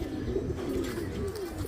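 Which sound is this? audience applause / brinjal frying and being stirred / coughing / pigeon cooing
pigeon cooing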